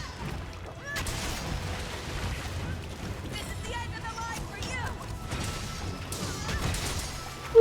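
In Monster Hunter Rise a player strikes a monster's head, giving repeated thwacks and crashes amid busy game effects, with a player talking over the action and a sharp hit at the very end.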